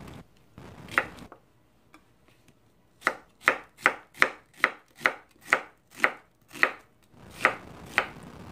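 A knife cuts onion into thin strips on a cutting board, about a dozen crisp, evenly paced chops after a brief pair of cuts at the start, close and clear with no talking.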